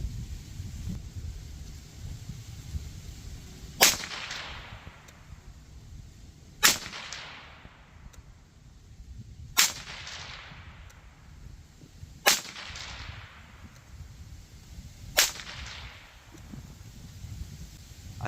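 Five sharp rifle shots from a Savage A17 in .17HM2, spaced a few seconds apart, each a loud crack with a short decaying tail over a windy outdoor background.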